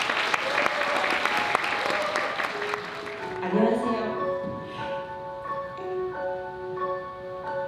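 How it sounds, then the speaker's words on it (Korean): Guests at a wedding ceremony in the Ramada Sindorim hall break into loud, dense applause that fades after a few seconds as sustained musical tones take over. "큰 박수 부탁드립니다"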